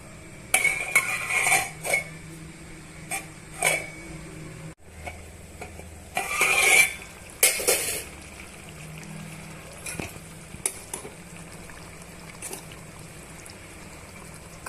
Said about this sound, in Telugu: ఇప్పుడు మనం మూత పెట్టుకొని ఒక 5 నుంచి 10 నిమిషాలు ఉడికించుకుందాం.